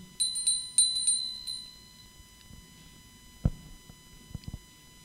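A small bell is struck several times in quick succession, bright ringing tones decaying over a couple of seconds, followed by quiet room sounds and a few soft knocks as a meditation begins.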